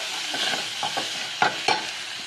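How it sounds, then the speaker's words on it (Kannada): Tomatoes fry in a pan for pepper rasam, a soft sizzle under several quick, close stirring strokes and scrapes; no speech. "ಇದು 5 ಮಿನಿಟ್ಸ್ ಆದರೂ ಫ್ರೈ ಆಗಬೇಕು. ಈ ಟೊಮೊಟೊ ಎಲ್ಲ ನೀಟಾಗಿ ಸಾಫ್ಟಾಗಿ ಬೆಂದ್ರೆ ಚೆನ್ನಾಗಿರೋದು."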